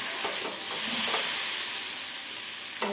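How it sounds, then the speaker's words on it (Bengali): Okra fries in a pan with salt and turmeric, hissing and sizzling steadily while a spatula scrapes and stirs it in a few separate strokes. "আর এর মধ্যে নুন একটু হলুদ দিয়ে আমি ভাজছি এখন"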